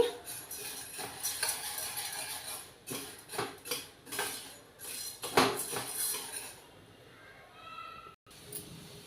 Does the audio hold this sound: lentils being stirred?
yes